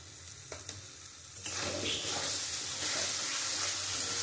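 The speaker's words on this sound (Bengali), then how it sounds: "আমি খুব ভালো করে কষাবো" Spice paste with onion and garlic frying and being stirred in a pan, a few faint scrapes followed by a sudden, steady loud sizzle that continues to the end.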